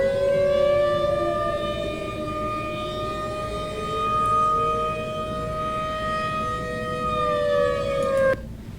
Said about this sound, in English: This is what a tornado siren, or outdoor siren, it's kind of the same thing, sounds like.